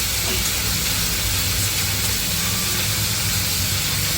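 Tomatoes sizzling loudly in hot oil in a pan while being sautéed for kara kuzhambu, a spicy Tamil tomato tamarind curry, with a steady dense hiss lasting throughout.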